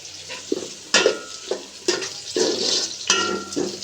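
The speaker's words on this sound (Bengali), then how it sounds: "একদম নেড়ে চেড়ে আমি ভেজে নিচ্ছি।" Raisins sizzle in hot oil in a pan for white pulao while a utensil stirs them, making repeated scraping bursts over a constant close frying crackle.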